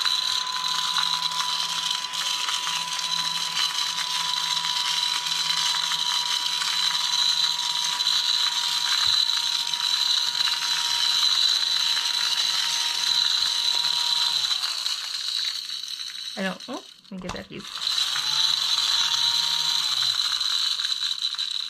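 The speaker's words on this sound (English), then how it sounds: "Little baby vacuum for your desk." A small We Are Memory Keepers desk vacuum runs with a steady high-pitched whine as it picks up scraps of paper. Near the end it cuts out briefly, then starts again with a rattle.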